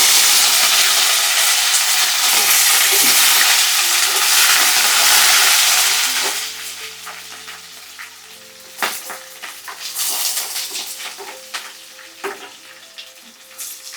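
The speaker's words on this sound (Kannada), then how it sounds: "ಕರಿಬೇವು ಹಾಕ್ತಾ ಇದ್ದೀನಿ." Curry leaves drop into hot oil for shavige upma, a loud crackling sizzle that fills the first six seconds, then settles into quieter frying with scattered pops and stirring clatter.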